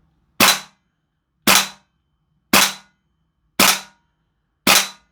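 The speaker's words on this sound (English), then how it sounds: "Do a bit of a dry fire. This is with propane." Toxicant XM5 airsoft rifle dry firing on propane gas, five sharp, loud, close cracks evenly spaced about a second apart, each with a brief decaying tail and silence between.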